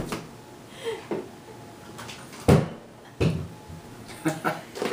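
A squeaky cabinet door bumps open and shut a few times with soft knocks, close by amid quiet room noise and a voice.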